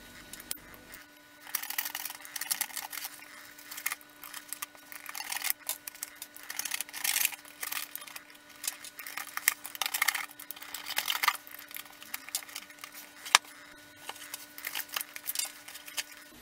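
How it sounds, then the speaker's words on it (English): A craft knife cuts a rectangular hole in a cardboard box, producing close, irregular scratchy slicing and tearing sounds in short bursts with brief pauses and no talking. "you could use a craft knife to cut this hole out"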